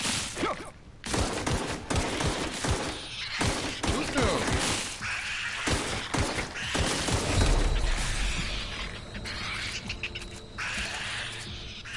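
Gunfire in The Outer Worlds combat, rapid overlapping shots and sharp cracks firing almost continuously, loud and close, with dense bursts that keep the din busy throughout.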